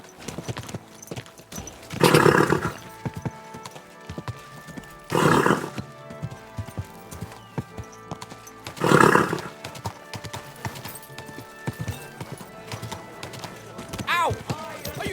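A horse in a game scene clip-clops at a slow, steady pace, broken by three loud neighs spread across the stretch, with a faint voice in the background.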